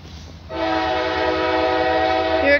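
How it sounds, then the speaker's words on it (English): CSX train in Jacksonville, Florida, blasting its horn as it approaches: a loud, sustained blare that starts abruptly and holds steady for about two seconds over low rumbling. "First train of the day"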